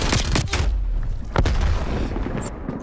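Grenade blast in Call of Duty Black Ops Cold War multiplayer, a loud booming explosion with rumbling low end, preceded by a couple of sharp thuds and fading into a sustained roar.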